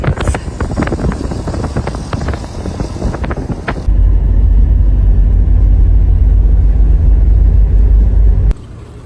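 A car climbs a steep scenic road through tea gardens toward Bangalore, its engine and road noise a low steady rumble that swells into heavy, close wind buffeting on the microphone partway through before easing off near the end.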